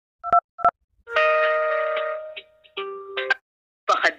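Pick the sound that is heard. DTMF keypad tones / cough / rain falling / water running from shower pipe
DTMF keypad tones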